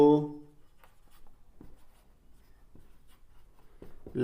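A pen scratches briefly and faintly on paper as a maths proportion is written out in a classroom lesson, with soft, sparse strokes following a voice at the start.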